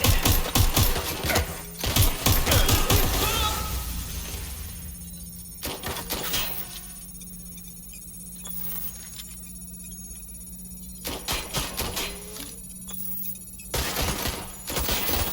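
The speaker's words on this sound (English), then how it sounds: "Suspect has opened fire!" Gunfire in the video game Watch Dogs: Legion, with loud bursts of rapid shots at the start and again toward the end, separated by a quieter stretch with a steady low hum.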